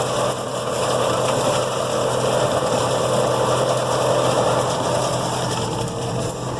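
A tractor engine idles at about 1400 RPM while a no-till seeder sows alfalfa in a September field, giving a steady, close, unbroken drone with no voices.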